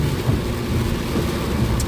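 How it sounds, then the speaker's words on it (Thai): A rainstorm beats down while driving, a dense, steady hiss of rain with low rumbling heard from inside the vehicle, loud and continuous, with no voices. "ฝนตกพี่น้องฝนตก"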